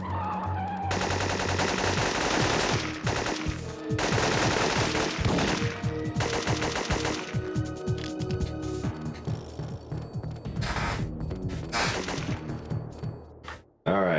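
Rapid video game gunfire from Syphon Filter, with dense automatic bursts and single shots rattling almost continuously over game music and effects, loud and close throughout.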